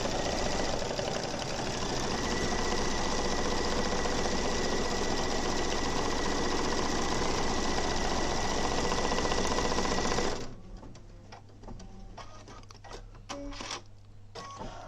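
An embroidery machine stitching a name on a retreat badge runs with a steady, loud mechanical whir for about ten seconds, then stops, and scattered clicks and small handling noises follow.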